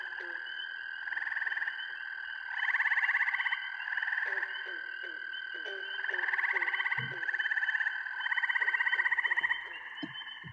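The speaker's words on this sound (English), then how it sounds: "There's the toad." A toad's rapid, buzzy trill repeats in several long bursts with brief pauses between them, fairly close and clear, while a faint voice speaks quietly underneath.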